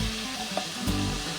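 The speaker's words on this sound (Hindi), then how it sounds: "इसे मैं भून लेती हूँ।" Ginger garlic paste frying over medium heat in a pan with lightly pink onions for ginger chicken, a steady soft sizzle with a brief stirring scrape midway, no voices.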